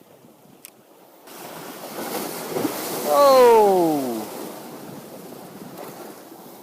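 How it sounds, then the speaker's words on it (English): Sea waves surge onto a shore during a seascape photography shoot, a broad rushing wash that swells and fades, with steady wind buffeting the microphone and a brief exclaimed voice. "I sense the waves are getting slightly bigger"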